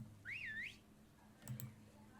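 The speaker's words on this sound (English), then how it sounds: "Oh, was that a whistle?" One short rising-and-falling whistle in the Resident Evil 4 otome edition video game, followed by a faint clatter over a low hum.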